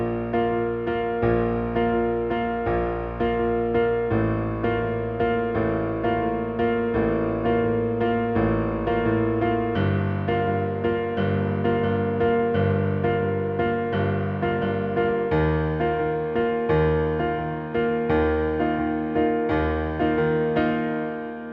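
Piano plays the chorus of a worship song as steady, evenly pulsed block chords with sustained low bass notes, moderately loud and alone.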